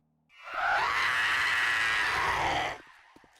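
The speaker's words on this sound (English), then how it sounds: "That is a horrifying scream. Imagine hearing that at night." A screamer zombie from the video game 7 Days to Die lets out one long, shrill, wavering scream lasting about two seconds, loud and alone, then cuts off abruptly.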